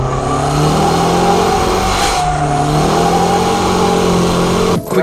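A car performing a fake drift, with the engine holding a loud, sustained drone that shifts in pitch as the revs change, close and continuous, ending with a brief noisy burst.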